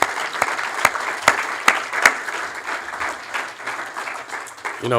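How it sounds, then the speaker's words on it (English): People at a memorial majlis applaud Teacher Nick, a moderate round of clapping with a few sharper individual claps standing out, tapering off toward the end. "Another round of applause for Teacher Nick."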